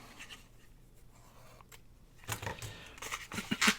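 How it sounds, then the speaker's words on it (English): Scissors trim paper for a cascading journal card pocket, a few soft crisp snips and paper rustles close by, growing louder toward the end after a quiet start. "So I'm going to trim that off"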